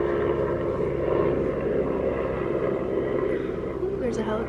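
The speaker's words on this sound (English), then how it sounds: "ooh, there's a helicopter" A helicopter flying overhead makes a steady, loud rotor drone throughout, with a person talking over it.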